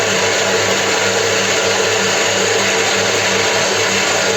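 Electric hand mixer whipping a sweet cookie mixture with a little lemon juice, a steady loud motor whir with a low rhythmic hum running unbroken throughout, no voices.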